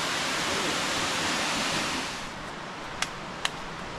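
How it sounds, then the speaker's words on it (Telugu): Steady broadband rush of the Pittaguda waterfall, heard from nearby as a constant roar that eases slightly midway, with two brief sharp clicks near the end. "వాటర్ ఫాల్ మాత్రం అంత బాగానే ఉంది"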